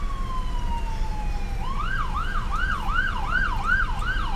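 Ambulance siren sounding on a road, a falling tone that shifts into a steady rapid wail repeating about twice per second, loud and fairly close with constant traffic rumble beneath.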